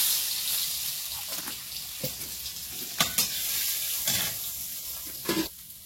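Cumin and garlic paste sizzle in hot oil in a wok, a steady close frying hiss broken by several sharp spatter bursts and stirring scrapes, without talk.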